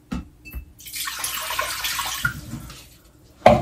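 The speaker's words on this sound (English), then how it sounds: "we're gonna add 2 cups of water," Two cups of water poured into a crock pot for poaching salmon, a steady splashing and gurgling stream lasting a few seconds, close by, ending with a light clunk.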